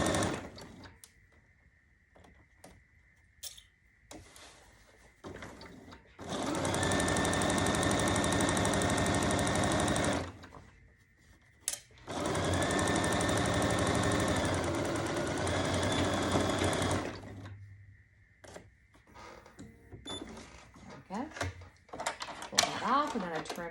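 A sewing machine runs in two long, loud bursts of rapid stitching across an apron tie, the motor buzzing steadily, with quieter handling noises and a pause between the runs.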